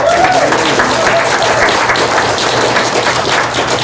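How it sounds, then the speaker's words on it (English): Steady applause from an audience fills the whole stretch, dense and loud, with a faint voice briefly audible under the clapping. "Let's give her a nice round of applause."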